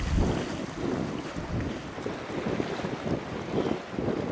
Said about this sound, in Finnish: meren loisketta.